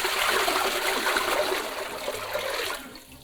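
Tap water pours and splashes into a basin used for rinsing a wool sweater, a close, steady gushing rush that tapers off toward the end.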